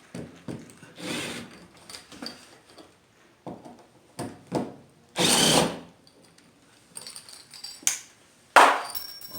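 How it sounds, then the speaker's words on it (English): Short bursts of a cordless drill with a T20 bit whirring on and off while removing screws, with clicks and handling noises between the separate runs. "I'm going to be using a T20 bit with a little drill and start removing them"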